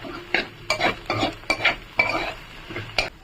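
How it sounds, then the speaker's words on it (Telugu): A spatula stirs chicken masala powder through egg in a pan while cooking restaurant-style egg fried rice. Repeated scraping strokes land about every half second over a soft sizzle, close and clear. "చికెన్ మసాలా పౌడర్ వేసుకున్న తర్వాత బాగా కలుపుకోవాలి."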